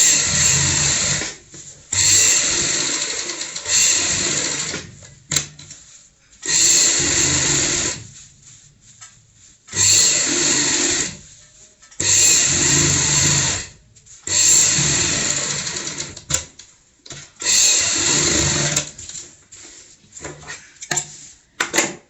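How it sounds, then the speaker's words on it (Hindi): A sewing machine runs a seam along a fabric pillow cover, loud and close, in repeated bursts of rapid whirring stitching lasting one to three seconds, separated by short quiet pauses. "अब हम इस साइड में सिलाई लगाएंगे, एक पैर का मार्जिन रखते हुए।"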